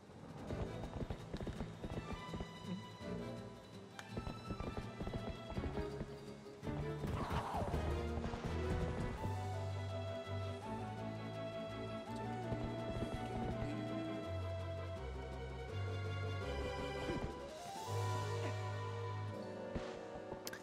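A horse galloping in Zelda Twilight Princess HD, rhythmic hoof clip-clops and a whinny under dense, loud game music throughout.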